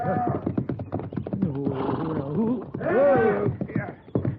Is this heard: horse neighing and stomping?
yes